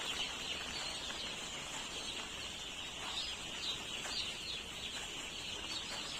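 Chicks on a poultry farm in their third day of brooding, a constant faint chorus of high peeping from many birds at once, steady and continuous with no talk.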